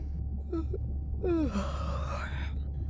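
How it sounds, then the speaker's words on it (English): A video game character gives a drawn-out yawn, a short breathy intake followed by a longer, sliding, sighing exhale over a low background hum. "Was that a yawn?"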